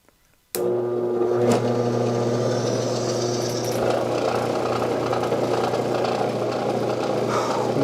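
A Lortone wet wheel lapidary grinder switches on abruptly after a brief silence, then runs steadily with a loud, even motor hum and mechanical whir that holds constant throughout.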